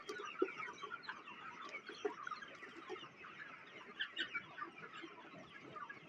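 Desi chickens on a poultry farm of about 1,500 birds in Jalalabad, Fazilka district, Punjab, cluck in a scattered, overlapping chorus, faint and somewhat distant.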